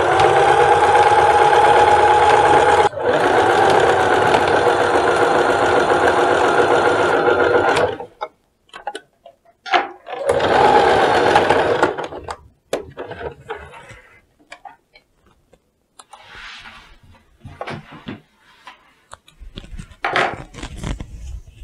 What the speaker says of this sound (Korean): 박으면서 밀린다 싶으면 노루발 조금 들려주시고요